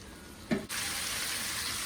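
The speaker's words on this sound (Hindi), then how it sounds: "और इसके साथ ही 1 कप पानी का ऐड कर देंगे।" A cup of water poured into a pan of tomato masala with red chilli, turmeric, cumin, coriander and carajwain, a brief splash giving way to a steady hissing gush.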